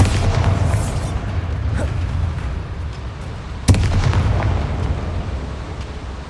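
A Bombarda spell explodes in Hogwarts Legacy with a sharp blast near the middle, set against a steady rumbling backdrop of booms and low combat noise. No voices are heard.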